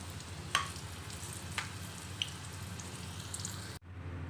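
Eggplant frying in oil in a pan, a steady close sizzle with a few sharp pops and crackles, cut briefly near the end.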